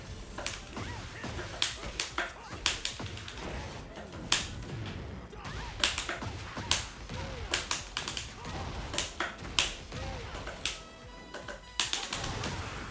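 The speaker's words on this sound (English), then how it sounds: "What is that counter sound? It's very strange sounding." Sharp, snappy counter-hit sound effects in Tekken 8 repeat irregularly over a dull background rumble of game action, each a crisp whip-like crack.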